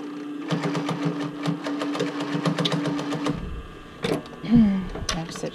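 A sewing machine back stitches across the band of a swim top, a quick close mechanical whir for about three seconds that then stops, followed by handling noise and a voice speaking.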